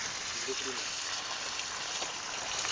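Water gushes steadily from a motor-fed pipe while goat offal is cleaned outdoors for a village-style curry, a close, continuous rushing hiss without pauses.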